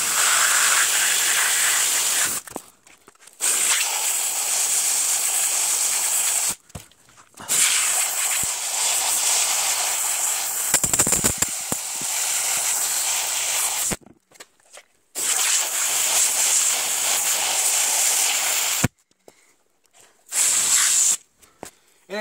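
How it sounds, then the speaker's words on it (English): A hissing water spray rinses a flame arrestor from the inside out in several long bursts, stopping and restarting with brief silent gaps between them. "And spray from the inside out."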